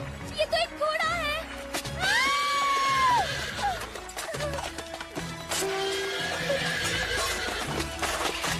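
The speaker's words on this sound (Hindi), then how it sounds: "ये तो एक घोड़ा है।" A cartoon horse whinnies loudly in a kitchen, with rising and falling neighs repeated across the clip and hoof clatter in between, while animated voices talk around it.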